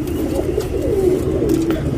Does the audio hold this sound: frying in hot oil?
no